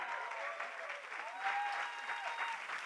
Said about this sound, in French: On applaudit également Isabelle Dubreuil.